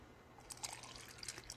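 Alkaline ionized Kangen water at pH 11.5 trickles into a small glass with soft, faint splashes and drips over a quiet background hiss.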